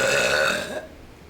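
A deliberate, forced belch, loud and close, a single drawn-out throaty burp lasting just under a second before fading out.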